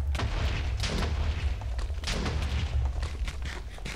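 Repeated booming blasts from TNT going off in the Minecraft EggWars game, loud and continuous with rumbling low thuds overlapping across the whole stretch, no voices.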